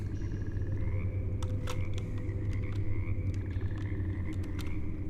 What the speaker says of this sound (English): I can hear frogs, though I can't see any.